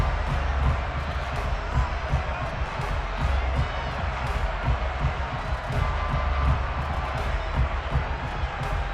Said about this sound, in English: A bad return, and now the home team crowd, they are fired up.